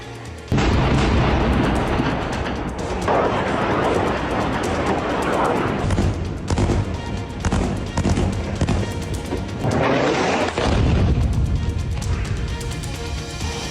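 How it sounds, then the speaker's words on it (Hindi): Loud, continuous rumbling bomb blasts and crashing booms in Gaza roll on for several seconds, dense and close, with sharp bursts rising and falling. "हर 10 मिनट पर एक बड़ा धमाका हो रहा है।"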